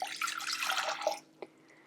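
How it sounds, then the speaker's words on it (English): Water pours into a pot in a kitchen as a short, bright splashing stream lasting about a second, then stops, followed by a single faint drip or tap. "I'm also going to take the 2 cups of water and pour that in as well"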